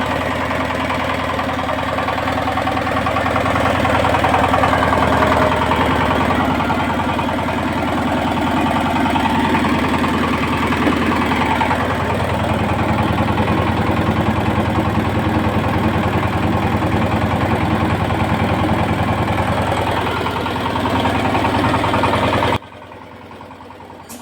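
A Kirloskar Mega T15 tractor engine runs a rotavator after an oil seal change, a loud, steady, rumbling drone with knocking vibration that holds for over twenty seconds before cutting off, no voices.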